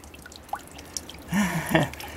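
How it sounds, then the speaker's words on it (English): Faint water drips from a leaking window, a couple of small isolated plinks, then a brief burst of splashing liquid near the end, close by and quiet. "So it appears we have a small leak in the window."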